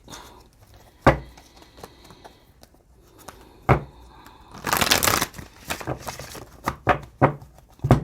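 Tarot cards being shuffled by hand: scattered soft riffling taps and a longer flurry of papery shuffling midway, close and fairly quiet.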